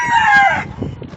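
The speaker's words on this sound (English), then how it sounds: "the little one's crowing right there right now" A small rooster crows once close by, a short bright call that trails off into farmyard clucking and low background noise.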